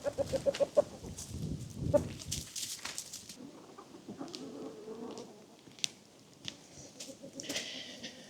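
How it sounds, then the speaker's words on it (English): Chickens at an off-grid cabin in cold weather cluck and murmur close by. Short, repeated calls rise over a rustling, scratchy background with occasional brief sharper sounds. "All right, so enough of the chickens."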